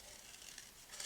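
Scissors snipping paper into a rounded shape for a scrapbook page, faint crisp cutting rasps, close but very quiet, over about a second.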